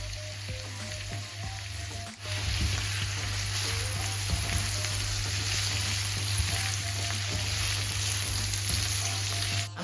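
Broccoli sizzles steadily in a hot frying pan, a dense continuous crackle with a low hum underneath and a brief stir or shift around two seconds in.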